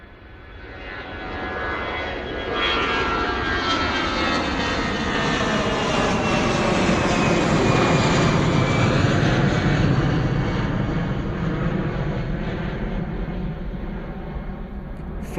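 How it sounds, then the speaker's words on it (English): An EasyJet jet airliner departs Bristol Airport on the 8:15 flight to Edinburgh, its engine roar building from a distance into a loud, sustained rumble with a sweeping whine that peaks and then slowly recedes. "Take the 8:15 departure to Edinburgh EasyJet from Bristol."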